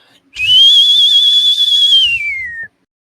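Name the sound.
person imitating a loud whistle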